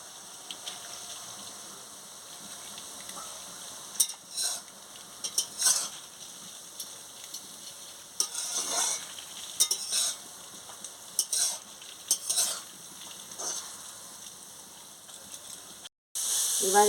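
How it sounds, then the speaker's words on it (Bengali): Cabbage stir-fries with garlic in oil in a pan, a soft continuous sizzle broken by repeated scraping and clattering strokes of a utensil stirring against the metal. "তারপর রসুন, তেলে রসুন দিয়ে তারপরে বাঁধাকপিটা দিয়ে ভালো করে নাড়িয়ে নেব"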